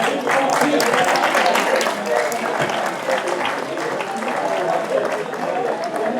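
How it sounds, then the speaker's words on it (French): Steady crowd applause at the podium ceremony of the Dirtlej Epic Enduro mountain-bike race in the Caroux mountains, dense and continuous at moderate loudness, with voices mixed in. "Applaudissements pour les trois, s'il vous plaît."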